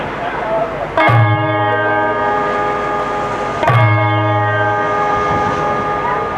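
A large bell strikes twice, each loud clang ringing out with a long, humming resonance that slowly fades between strokes.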